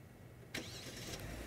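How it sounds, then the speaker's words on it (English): A Kia K9 (K900) luxury sedan's engine fires up remotely with a sudden onset, then settles into a steady, moderately loud idle heard from close by, with no talking. "start the car"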